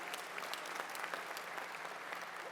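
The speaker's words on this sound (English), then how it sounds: "let's give Chris a round of applause" Audience at a college graduation ceremony applauding, dense steady clapping from a crowd heard at a distance, fairly quiet and even throughout.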